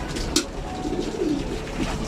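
Pigeons in a loft coo softly in low, rounded calls while being fed a mix of wheat and other grains, with a few brief coos spread across a steady background hum.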